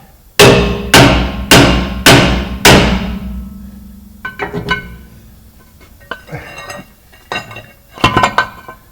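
Five loud, ringing hammer blows on a heated rear brake part of a 2016 Dodge Grand Caravan in a steady rhythm, followed by lighter clinks and taps of metal parts being handled.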